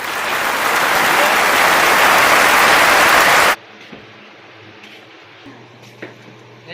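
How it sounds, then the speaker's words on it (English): A loud round of applause welcomes a guest speaker to a school talk on sepak takraw. The thick clapping runs for about three and a half seconds, then cuts off abruptly into a quiet room. "Let's welcome Mr. Dennis Moraleda. A round of applause,"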